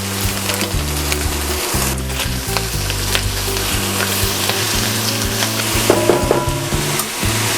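Chicken breast and bacon fry loudly in a pan for fried rice, a dense continuous sizzle and crackle close up, with low rumbling bumps and knocks from the pan being moved, no talking.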